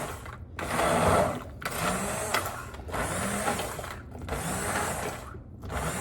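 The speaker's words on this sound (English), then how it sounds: "I was finding it was very hard to use the immersion blender" An immersion blender whirs through a thick fig cookie mixture in a home kitchen, running in steady bursts with short pauses between them, loud and close with no talk.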